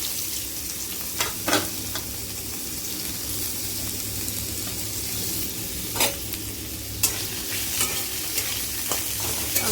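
Potatoes and carrots sizzle and fry in hot oil with panch phoron, a steady loud crackle with a few sharp stirring clinks and scrapes scattered through, no talking.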